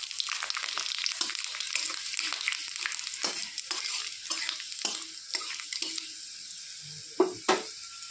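Bay leaf, dry red chilli and panch phoron spices crackle and sizzle in hot oil for a Bengali pumpkin and pumpkin-shoot chorchori, a steady close fry with scattered pops and stirring scrapes, ending in two sharp knocks.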